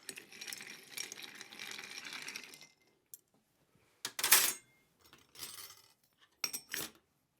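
Ice clinks and rattles in a mixing glass as a rum cocktail is stirred, a steady swirl of light jingling followed by a few sharper, separate clattering bursts, close and fairly quiet.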